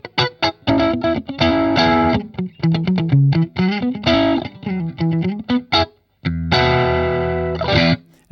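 Ibanez Prestige AZ2200 electric guitar in pickup position 4, playing a quick run of clipped, funky chord stabs and single notes with short gaps between phrases, close and loud with no voices.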